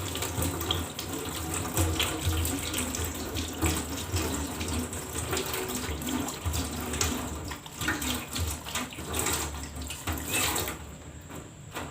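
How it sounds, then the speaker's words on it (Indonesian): Running tap water pours steadily into a sink while hands are rinsed during handwashing, a continuous close splashing flow with no talk. "Kemudian bilas dengan air mengalir."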